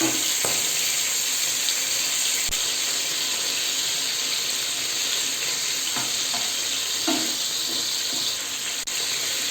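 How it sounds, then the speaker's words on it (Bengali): Prawns sizzle in hot oil for Hakka noodles, a steady close frying hiss with a few sharp stirring clinks and scrapes, no voices. "চিংড়ি মাছগুলো ভাজা হয়ে গেছে, এগুলো আমি একটা পাত্রে তুলে নেব"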